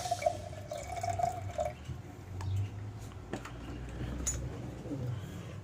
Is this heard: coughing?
no